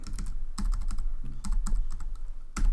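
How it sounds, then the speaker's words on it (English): Computer keyboard keys click in quick irregular bursts, close and crisp, with short pauses between groups of keystrokes. "you actually can see what I'm typing."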